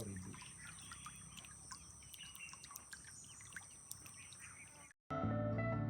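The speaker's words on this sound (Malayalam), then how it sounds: "അവിടെ നിന്ന് കേൾക്കുന്നത് മുഴുവൻ പക്ഷികളുടെ കളകളനാദവും" Birds chirp and call in bright, repeated tweets beside a river on a riverside island, with a faint steady trickle of flowing water beneath, then a brief gap before a louder tonal sound cuts in at the end.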